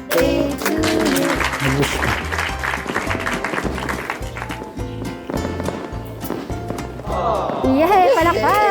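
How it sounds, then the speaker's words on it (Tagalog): Party guests clap loudly after singing happy birthday, a dense steady patter of many hands with voices mixed in, swelling toward the end with excited cheering. "Yay, palakpak!"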